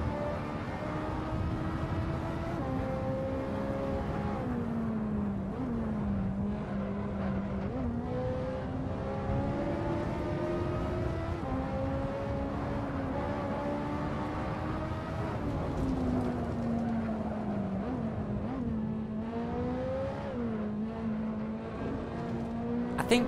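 Radnor Draig car lapping Imola in Assetto Corsa, a continuous engine drone rising and falling through gear changes and corners for the whole stretch, steady and moderately loud with no voice.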